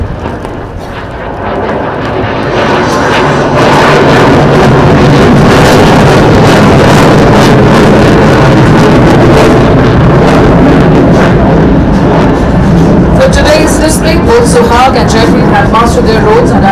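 A Sukhoi Su-30MKI fighter jet of the Indian Air Force flies past during a display, making a steady, loud, broad roar that builds early and holds throughout under continuous narration.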